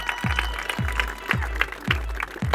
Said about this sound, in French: Je vais vous demander de faire un tonnerre d'applaudissements pour Morgane Cathy, mesdames et messieurs